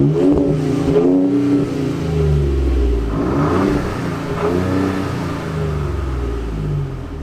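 A 2020 Ford Raptor's 3.5-liter twin-turbo engine revs up repeatedly, rising and falling in loud, close surges with a deep throaty rumble and no talking.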